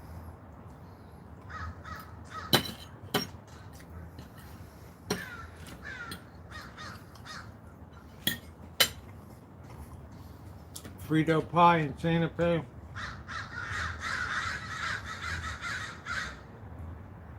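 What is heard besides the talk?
crows cawing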